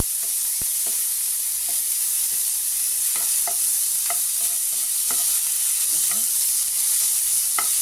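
Pork sautéing in a pan for ginataang mixed vegetables, a steady sizzle throughout with scattered stirring scrapes and light clicks of a utensil, close and moderately loud with no talking.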